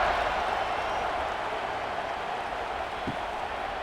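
A steady, loud crowd roar fills a stadium in College Football 26 during Penn State versus Michigan State as a kickoff approaches, the dense cheering holding constant with one faint low thump near the end.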